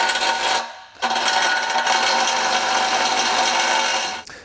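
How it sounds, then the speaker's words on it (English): Power cutting tool slicing through a 2014 Volkswagen Jetta's removed bumper, either a cutoff wheel or a reciprocating saw, a loud steady grinding whine after a short pause, running continuously for several seconds with no talk. "we can go ahead and cut this. Again, you can use either a cutoff wheel or a reciprocating saw"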